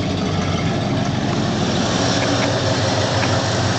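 A Ford F-250 engine idles on a baseline tune through a stock muffler and tip, giving a steady, even, low rumble heard close and alone.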